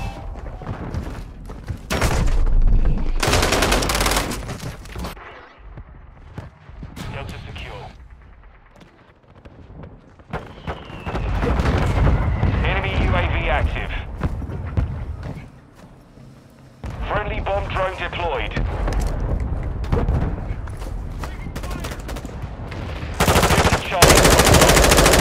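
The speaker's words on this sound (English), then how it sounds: "Hostile mortar strike near your position." Mortar impacts and sustained machine-gun fire in a Call of Duty: Modern Warfare 2 Ground War match on PC, loud bursts of automatic gunfire and heavy blasts recurring throughout, with radio-style voices calling out over the battle.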